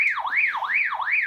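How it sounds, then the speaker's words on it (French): A Baofeng UV-5R handheld radio sounds its alarm with the call button held: a loud, continuous rising and falling electronic siren, sweeping up and down about three times in quick succession with no voices. "tu as l'alarme et le mode stroboscopique qui se met"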